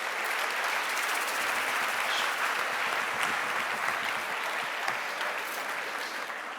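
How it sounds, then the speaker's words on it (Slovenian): Sustained applause from a large audience at a business association's 20th anniversary celebration in Slovenia, dense and steady clapping throughout, fairly distant and even in level. "Dajte si zaploskati."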